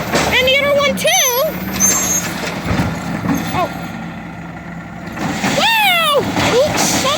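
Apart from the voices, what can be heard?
garbage truck with air brakes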